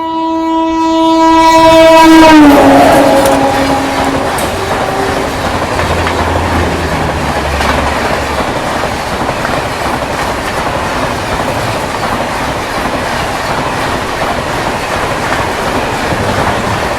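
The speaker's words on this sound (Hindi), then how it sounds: "वो देखो भाई हॉन्किंग करते हुए आ रही है तिरुनेलवेली श्री माता वैष्णो देवी कटरा एक्सप्रेस अपनी झेलम एक्सप्रेस को यहाँ पे ओवरटेक करने के लिए" An Indian Railways express, the Tirunelveli–Shri Mata Vaishno Devi Katra Express, blasts a long, loud horn close by as it overtakes, then its coaches roll past with steady clattering rail noise for the rest of the stretch.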